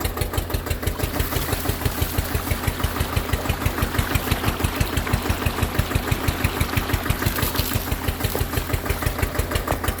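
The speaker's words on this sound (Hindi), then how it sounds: "और ट्रैक्टर स्लो रेस पर जो ट्रैक्टर को चला रखा है" An Eicher 241 24 hp tractor runs at low speed driving a 6x4x6 inch water pump, its diesel engine thudding in a fast, steady, even rhythm, loud and close with no talk.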